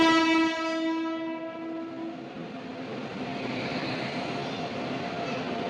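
A passenger train pulls into a station, opening with a loud sustained horn blast that fades into the rising rumble and rattle of rolling cars, growing steadily closer with no one speaking.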